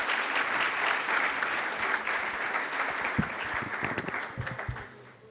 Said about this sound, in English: I would request all of you to please clap for them